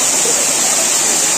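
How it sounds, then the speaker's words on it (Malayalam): Manoori waterfall in Kasaragod roars as a steady, loud, unbroken rush of falling water, close by and with no voices over it. "ഇപ്പൊ മാനൂരി വെള്ളച്ചാട്ടം എങ്ങനെ, അടിപൊളിയല്ലേ?"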